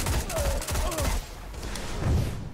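Imago Loop hand cannon, a Year 3 weapon, firing in a Destiny PvP match: repeated sharp, punchy gunshots in a loose, rapid rhythm, loud and close, with other gunfire and game sounds mixed in.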